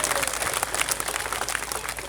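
An election rally crowd in Delhi applauds during a campaign speech for AAP, a dense, continuous wash of clapping that holds steady and fairly loud throughout, with no speech over it.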